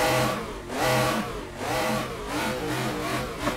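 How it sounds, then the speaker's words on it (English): A Shelby Daytona engine in the Assetto Corsa racing game revs repeatedly, rising and falling in several surges heard close and fairly loud, without any talk. "Let's take a listen to this engine."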